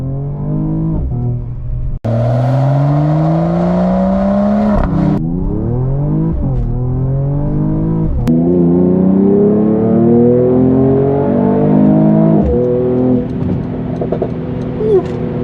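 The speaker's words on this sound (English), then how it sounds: "this is what the car sounds like when you floor it." A 2021 Mercedes-Benz E53 AMG sedan with a 3-liter straight-six engine revs hard at full throttle through rising gear pulls, loud and close, with brief drops between shifts before climbing again, sustained throughout.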